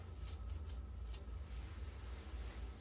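Scissors snip at a Halloween costume wig in a few quick, light clicks early on, then fade into a low steady background hum.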